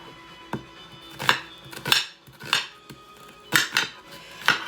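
Knife chopping onions for Japanese curry on a board, with several sharp percussive knocks and clatters in irregular bursts, close and fairly loud, like blade on board and utensils, with no talk.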